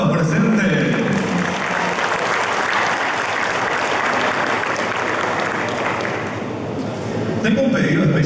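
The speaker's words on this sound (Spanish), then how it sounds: "Fuerte el aplauso a los presentes." People gathered at the official opening of an agricultural show give a loud, sustained round of applause that fills the space, with some voices mixed into the clapping.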